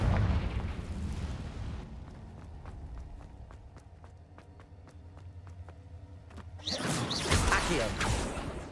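A Confringo fire spell explosion in Hogwarts Legacy erupts as a loud, broad burst near the end, after a stretch of rhythmic running footsteps and a muffled rumble; a brief loud whoosh also opens the clip.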